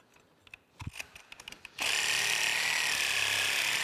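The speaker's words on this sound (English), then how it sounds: "I had to switch over to a carbide tip blade to get through this, but looks like it's cutting it now." Saw fitted with a carbide tip blade cutting through a metal shaft from an ice cream churn, a few sharp clicks and knocks first, then a loud, steady high-pitched grinding whine that continues to the end.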